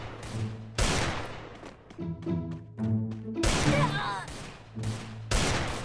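Gunfire in the mobile battle-royale game Garena Free Fire: loud, sharp shots in irregular bursts and single cracks, with electronic game tones and effects sounding between them.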